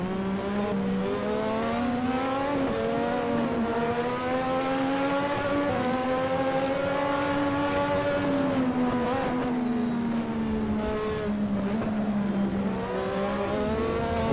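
A turbocharged 1986 Formula 1 engine at Imola in the Assetto Corsa racing game, screaming loud and steady at high revs, its pitch rising and dipping through gear changes across the lap, with no voices.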